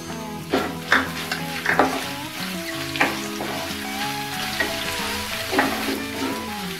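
Finely chopped carrots and onion fry in a pan for rava upma, a steady sizzle with a series of sharper stirring scrapes spaced through it, close and moderately loud, with no talking.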